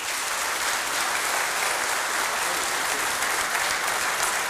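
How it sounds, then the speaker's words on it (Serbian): A crowd at the Sarajevo premiere of the documentary film HAKO breaks into loud, sustained applause, a thick wash of clapping that stays level from start to finish, with no voices heard. "Pozdravimo ih još jednim aplauzom"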